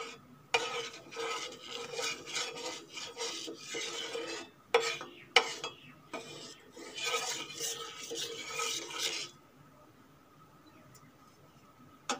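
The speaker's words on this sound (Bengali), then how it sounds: "এখন নাস্তাগুলো আমি ভেজে নেব।" Suji snacks fry in white oil on a tawa while a utensil scrapes and clatters against the metal in quick bursts over a soft sizzle. The stirring stops near the end, leaving only a faint hiss.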